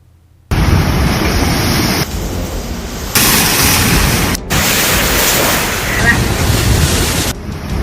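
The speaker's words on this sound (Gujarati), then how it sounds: "દરિયો ડરાવે છે મોજા રોજ મોતની થપાટ મારે છે" Monsoon sea waves pound the coast at Nani Danti village in Valsad, a loud, rough roar of surf and wind that is cut into several abrupt segments.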